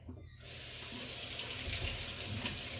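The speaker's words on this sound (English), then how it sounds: "we're gonna rinse and chop asparagus, and sun-dried tomatoes" Asparagus spears are rinsed under a running kitchen tap: after a brief quiet moment, a steady, full stream of water splashes continuously and fairly close, with no talking.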